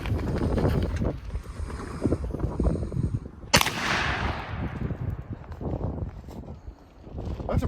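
A .410 shotgun fires a single sharp report of Federal 000 buckshot, five pellets, at a target 10 yards away, the crack standing out near and loud against wind and outdoor noise.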